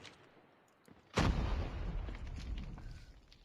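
A grenade blast in a Call of Duty Mobile match, one sudden loud boom with a rumbling tail that fades slowly over a second or two, preceded by faint scattered game noise.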